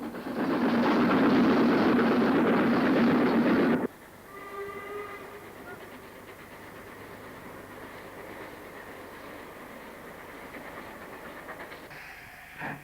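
An LMS Crab steam locomotive hauls a rail tour train on the climb to Copy Pit near Cliviger on the Lancashire and Yorkshire line, a loud close roar of passing train for four seconds, then a quieter steady rumble with faint whistle-like tones.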